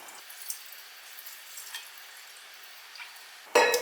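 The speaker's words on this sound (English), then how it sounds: "Now we're going to add 335 grams of water." Water for a rye and wholemeal sourdough is poured into flour, a short, bright splashing gush near the end after a few faint clinks and rustles in a quiet kitchen.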